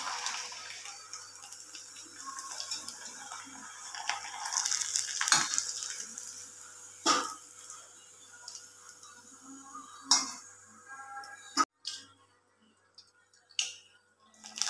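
Small homemade snacks fry in hot oil on a home stove, giving off a soft, steady sizzle. Occasional sharp clinks and scrapes of a utensil stirring in the pan break through, loudest toward the end.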